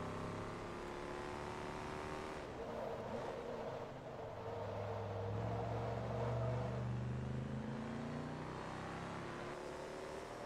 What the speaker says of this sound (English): Oh, lovely engine noise.